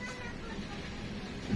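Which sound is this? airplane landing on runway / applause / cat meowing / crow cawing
cat meowing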